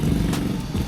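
A motor scooter engine drones steadily close by for a moment as it passes in Cotubanamá National Park, Dominican Republic, a low rumbling buzz with no voices.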